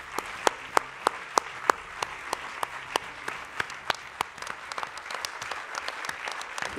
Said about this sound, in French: on peut les applaudir et applaudir leurs collègues avec eux